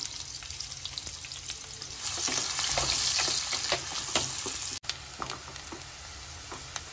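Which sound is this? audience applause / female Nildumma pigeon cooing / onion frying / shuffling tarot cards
onion frying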